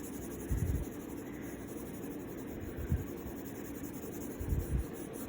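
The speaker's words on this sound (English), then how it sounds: "pressing on harder as the pencil comes from under the shell, and again fading it in" A pencil shades on paper while drawing a turtle, a faint soft scratching with a few firmer rubbing strokes, heard close and alone.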